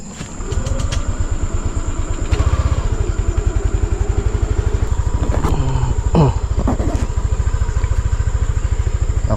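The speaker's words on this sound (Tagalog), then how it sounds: "Para uminit muna na konti ang kanyang makina." Motorcycle engine idling to warm up, a steady loud pulsing putter with a rapid even firing rhythm close by, occasional clatter and brief higher sounds over it.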